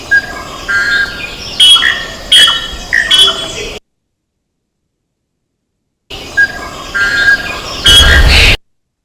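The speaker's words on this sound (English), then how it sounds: "So we have white-cheeked barbet here and blue-throated barbet here" Calls of white-cheeked barbet and blue-throated barbet, a repeated series of loud, near bird notes in two bursts separated by a silent gap, the second ending in a harsh squawking burst.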